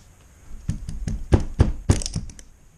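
Tekton ratcheting wrenches from a nine-piece set get banged out of a plastic case, giving a series of close hollow thunks and knocks, several sharp hits clustered in the middle with quieter taps around them.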